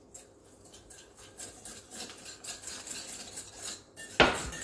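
Boiling coconut-pineapple fruit purée being whisked into financier batter in a bowl, a brisk rhythmic scraping and clinking of whisk against the bowl, ending in a sharp louder knock.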